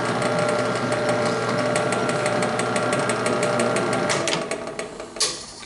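Drill boring a through hole in wood clamped in a vise for a Ludwig stand, a loud steady grinding whir with rapid rattling ticks that breaks up near the end into a few knocks and clatters as the bit goes through.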